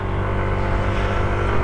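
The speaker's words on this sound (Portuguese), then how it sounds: "Estamos aí dando uma voltinha de moto" A Yamaha Nmax 160 scooter-style motorcycle riding through Porto Alegre, its engine drone steady and close with a rumbling low end, mixed with rushing wind.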